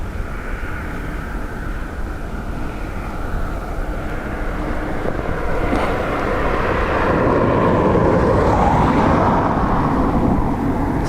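An ATR turboprop and an Airbus A330 at Dublin Airport, heard as a steady, loud engine roar across the airfield that slowly builds in intensity.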